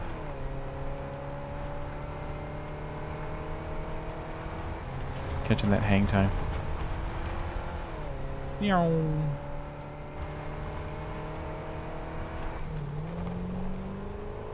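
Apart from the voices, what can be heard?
car engine driving, from video game Satisfactory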